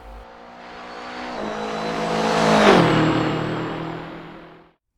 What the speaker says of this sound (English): we're going to be using the Bayro V6 from Race Sim Studio in Assetto Corsa for these laps